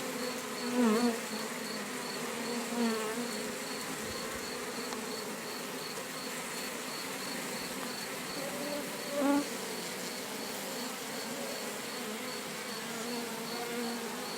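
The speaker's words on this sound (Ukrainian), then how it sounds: "Це відчувають і розуміють усі бджоли рою і починають дедалі швидше просто втікати у ляток" A honeybee swarm with drones pours into a log hive, a dense, loud, continuous buzzing mass with occasional individual bees droning close by.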